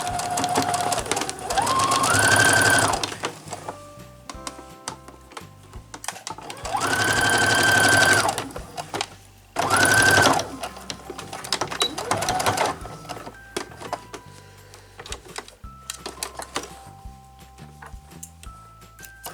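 A sewing machine stitching a second seam on a draped dress collar runs in three loud motor bursts with whirring stitching. Quieter handling clicks and rustles fill the pauses.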